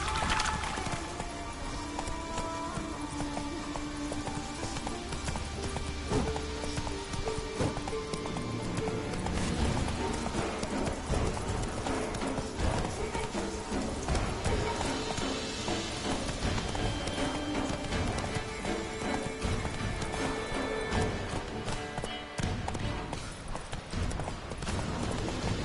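Horse hooves galloping in The Witcher 3 video game, a steady rhythmic clip-clop running throughout over dense game sound and music, close and continuous.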